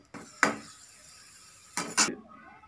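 Raisins and cashews fried in ghee in a pan, with two bursts of stirring and scraping clatter over a quiet sizzle.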